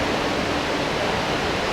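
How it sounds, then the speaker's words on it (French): Small waterfalls and cascades filling a basin at a mountain temple in Nikko, Japan, a steady broadband rush of falling water, close and continuous with no voices. "il y a un flux principal avec sur le côté des petites cascades qui remplissent un bassin"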